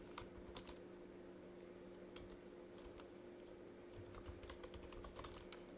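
Continuous typing on a computer keyboard while filling in a web form, steady clicky keystrokes at close range with no talking.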